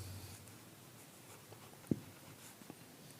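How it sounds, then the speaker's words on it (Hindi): Pen writing on paper during a trigonometry lesson, soft faint scratching strokes with a couple of small taps, quiet and close with no talk. "तो यहाँ पे हम लिखेंगे"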